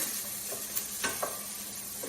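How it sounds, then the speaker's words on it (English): Onions and garlic sauté in a pan for a weeknight curry, giving a soft, steady sizzle with a few faint stirring clinks scattered over two seconds. "So I'm going to saute with these aromatics here."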